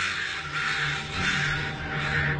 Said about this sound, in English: The crows seem to wail and scold her and the dead bird.